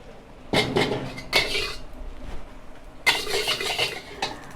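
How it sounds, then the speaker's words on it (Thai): A metal wok clanks and scrapes in bursts as it is scrubbed and rinsed, with short pauses between the rattling strokes. "ล้างกระทะแป๊บหนึ่ง"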